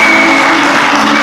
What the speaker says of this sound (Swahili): Makofi kwake pia